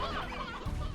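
Chickens clucking in the Slime Rancher video game, a dense, steady layer of overlapping clucks filling the whole moment with no talk over it.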